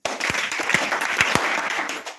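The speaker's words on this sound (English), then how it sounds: "Why are you clapping?" Audience clapping at a Krishna Consciousness gathering, with dense, steady applause holding fairly loud for about two seconds and a few sharper individual claps standing out.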